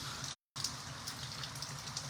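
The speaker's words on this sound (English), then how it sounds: "this rain's kind of making a nice relaxing little pitter patter." Light rain falls in a soft, continuous pitter-patter of scattered drops, quiet and steady, broken by a brief dropout of sound, with no talk.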